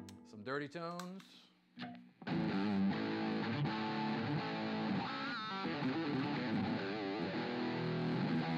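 After a few short picked notes, a Reverend Charger dual humbucker electric guitar breaks into loud, thick, distorted chords that ring continuously and close up.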